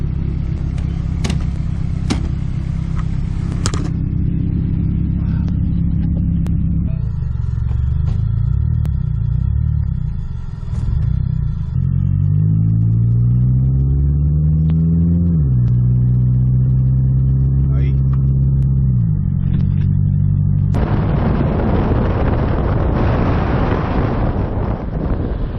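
A Nissan S14 240SX with over 200,000 miles on a test drive, its engine droning steadily with rising and falling revs through gear changes, followed by a loud rush of wind noise near the end.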